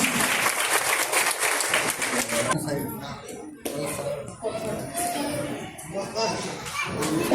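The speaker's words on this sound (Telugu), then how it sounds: "Claps and please." An audience claps and applauds at a World IVF Day celebration held by a fertility clinic. The applause is loud and sustained at first, then thins into scattered claps with voices talking over it.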